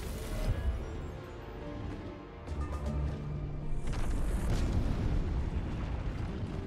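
An artillery barrage in the fantasy strategy game Age of Wonders 4: a rumbling volley of booming impacts that builds into a dense, sustained roar of explosions halfway through, fairly loud with no talk.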